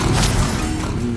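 A burst of the Incendio fire spell in Hogwarts Legacy roars as a dense, continuous rush of flame lasting about a second, with a steady level and no pause.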